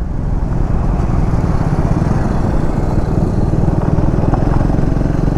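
A motorcycle engine runs steadily and loudly up close on a road at dusk, a continuous rumbling drone with rattly texture and no break, no voices over it.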